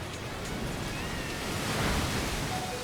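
A Muddy Water attack in a Pokémon battle video game rushes out as a steady, loud wash of splashing, surf-like water noise that swells slightly toward the end.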